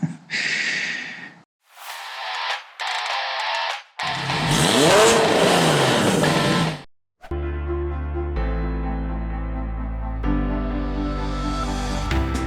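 A rebuilt Porsche 911 engine cranks and sputters in several short bursts separated by silence. It then catches and revs hard, settling into a loud, steady idle with a strong low rumble.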